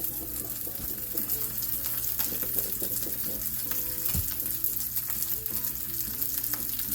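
Lamb slices sizzling steadily in a hot pan while being flipped, a dense continuous frying crackle with occasional scrapes and taps of a utensil, close and fairly loud, no voices.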